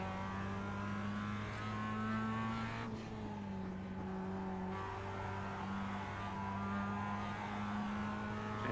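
A race car in the iRacing sim holds high revs with a steady buzzing engine tone that dips briefly on a shift and climbs again, continuous and fairly quiet.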